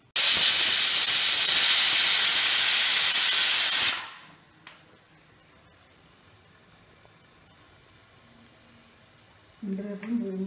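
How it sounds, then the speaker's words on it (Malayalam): Steam hissing loudly and steadily from a vessel used to steam unleavened Pesaha appam, cutting off abruptly after about four seconds into near silence, followed by a brief faint voice at the end. "എൻ്റെപ്പം പുളിപ്പില്ലാത്തപ്പം പുഴുങ്ങാൻ വേണ്ടി പാത്രത്തിൽ അടുത്ത് വെച്ചു"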